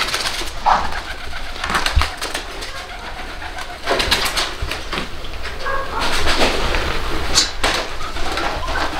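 Pigeons cooing inside a supposedly haunted house in Chile, a few soft repeated coos heard amid steady background noise and scattered knocks, with no clear talk over them.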